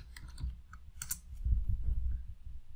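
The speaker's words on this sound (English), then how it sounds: "So if you just type help here," Soft, close computer keyboard typing, a quick scatter of light key clicks with brief pauses while a command is entered.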